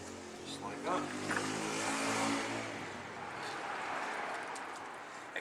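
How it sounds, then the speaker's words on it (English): Road traffic on a nearby street passes by, a broad rushing swell of engine and tyre noise that rises and fades over several seconds and carries a low engine hum. "Excuse the traffic that's going by the way"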